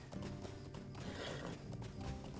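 A horse gallops in the game LotRO, a fast, rhythmic clip-clop of hooves heard close and continuous, with a faint whinny-like tone mixed in.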